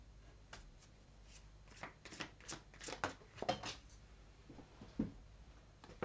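Tarot cards are shuffled by hand in a quiet room, a run of soft riffling flicks and slaps in irregular bursts, close and faint, with no one speaking.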